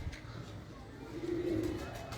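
Breeder pigeons cooing softly, a low throaty coo swelling briefly in the middle of quiet room ambience, faint and close.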